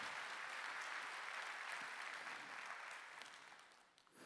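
A church congregation at a Sunday worship service applauds in a faint, distant wash of dense clapping that holds steady and then thins out toward the end.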